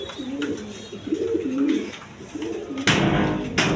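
Pigeons coo in a repeated, rolling rhythm, a male calling near a female in a pigeon seller's loft, with a sharp noisy burst near the end.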